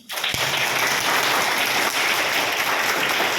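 A classroom of students bursts into applause, a dense, steady burst of many hands clapping close by for about three seconds, with no voices over it.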